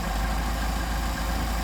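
Engine idling steadily at close range while Solex carburetors are adjusted, a continuous low rumble with constant vibration and no break.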